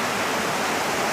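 Water pours steadily over organic compost soil during watering, a dense, even wash of rushing noise that fills the whole moment, close and fairly loud, with no voices.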